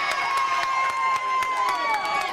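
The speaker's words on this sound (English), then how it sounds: "The crowd really liked that." A wrestling arena crowd at an NWA show cheers and shouts steadily, a dense roar with scattered claps and whoops under continuous noise.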